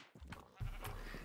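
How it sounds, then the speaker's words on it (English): Sheep bleating in a Minecraft modpack game world, a couple of short synthetic bleats standing alone at moderate, close-up loudness with no talk over them. "he's got stables filled with sheep, cow, pigs, and even a horse, Shadowfax"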